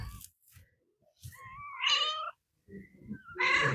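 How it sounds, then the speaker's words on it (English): Kittens kept in a garage give a few faint, short meows spread across a few seconds, with soft rustling and small movement noises between the calls. "These are the kittens that are in the garage."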